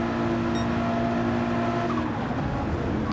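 Race car engine roaring past on the Watkins Glen straight during a 12-hour endurance race, loud and steady with a sustained tonal drone that shifts pitch slightly as the car passes near.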